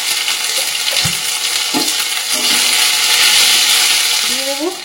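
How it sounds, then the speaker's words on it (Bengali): Spices including bay leaf, dried chilli, panch phoron, ginger and cumin paste fry in mustard oil in a wok, a loud close sizzle and hiss with occasional stirring scrapes and a brief clatter at the end. "ভালো করে মশলাটা ভাজা ভাজা হয়ে গেছে"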